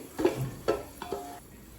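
Cinnamon, cloves, cardamom and bay leaves fry quietly in oil in a pot for chicken biryani, with a faint sizzle and three soft stirring scrapes.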